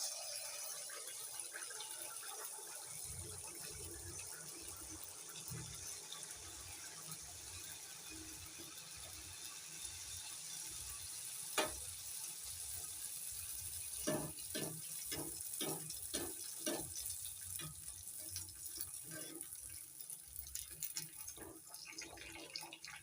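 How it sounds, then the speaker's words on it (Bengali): Dollops of batter for khejur gur poa pitha fry in hot oil, a soft continuous bubbling sizzle with scattered crackles and a few sharp pops, fairly faint and without voices. "তেল গরম হয়ে গেছে এবার তেলের মধ্যে এক ডাব করে ব্যাটার দিয়ে দিচ্ছি"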